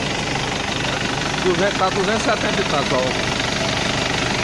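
A rebuilt 1996 Chevrolet D20 turbo pickup engine idles close by with a steady, low rumble and some vibration, while someone speaks over it partway through.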